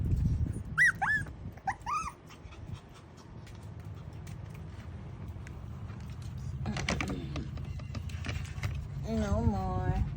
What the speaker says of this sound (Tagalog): Lakas ang kahol mo.